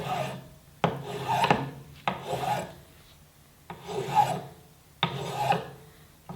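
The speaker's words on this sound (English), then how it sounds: "when you're filing, files only work when you push them" A hand file rasps over a high spot on a restored 1954 Chevy steering wheel in five slow, even push strokes, close and clear with pauses between.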